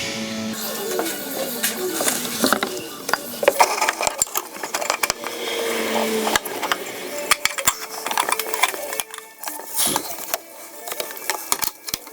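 Oil filter cap being screwed onto its housing during an R50 Mini oil change, heard as irregular ratcheting clicks and clattering mechanical bursts up close, with gaps and sharp knocks between runs.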